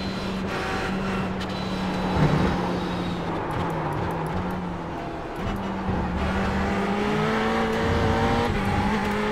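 A Ferrari 488 GT3 race car at speed on the Le Mans circuit, engine note rising and shifting through gears, a steady near roar with a brief surge and dip midway, no talking.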